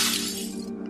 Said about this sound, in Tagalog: Ang mga bala ay tumatagos sa mga salamin sa loob ng bahay, nagdulot ng malalakas na pagkabasag.